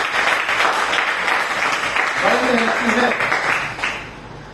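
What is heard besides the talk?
audience clapping and applause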